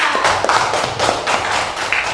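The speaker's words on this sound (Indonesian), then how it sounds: "tepuk tangan untuk Azra" Steady hand clapping from a small class of students, quick, even claps continuing for a couple of seconds at close range.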